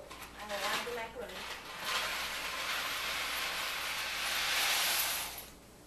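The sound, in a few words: adding elbow macaroni to a pot of boiling water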